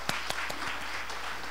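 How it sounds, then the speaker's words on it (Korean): An audience at a startup lecture in a hall claps steadily after the talk, a dense even patter of many hands with a few sharper claps at the start, fairly close. "여러분 다시 한번 큰 박수 부탁드립니다"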